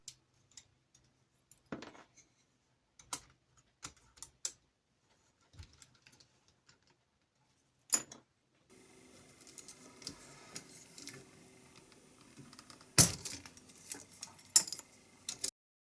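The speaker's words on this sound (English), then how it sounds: "it was out with a keycap puller and a fun 15 minutes of removing 60 plus keycaps." Plastic keycaps are pried off a Tandy 200 keyboard with a keycap puller, giving sparse, quiet clicks and snaps spaced irregularly, then a soft rustling backdrop with a few louder clacks.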